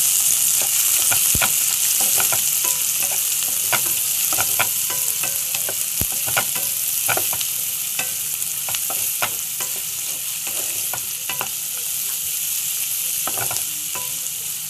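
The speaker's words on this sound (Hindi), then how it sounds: "ये देखिए, अब मैं इसमें डालूंगी कटा हुआ प्याज।" Chopped onion frying in a pan for macaroni, a steady loud sizzle with repeated scraping clicks of a spoon stirring at an irregular rhythm, close and continuous throughout.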